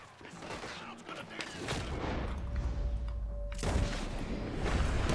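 Gunfire in the Red Dead Redemption 2 video game, a dense run of shots and booms at a town window, loud and continuous throughout with low thumps and a brief tonal hum.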